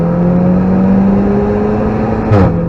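A car driving at full throttle on the Nurburgring circuit, heard as a loud, steady engine drone from onboard that holds its pitch before a brief shift near the end.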